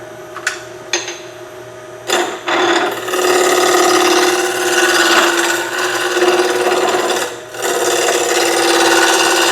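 A bowl gouge makes a bevel rubbing cut in wood: a few sharp clicks, then a continuous close scraping, shaving hiss that swells and holds, with a brief dip before resuming.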